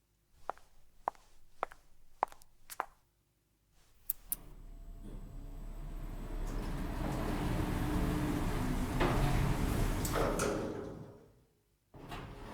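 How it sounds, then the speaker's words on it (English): Lift doors in an office building slide open as a sound effect in an audio drama, a broad steady whoosh lasting several seconds after a few sharp clicks and footstep-like taps, then cutting off abruptly. "Doors opening."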